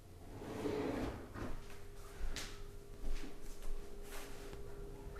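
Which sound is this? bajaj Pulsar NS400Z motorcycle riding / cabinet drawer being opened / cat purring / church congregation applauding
cabinet drawer being opened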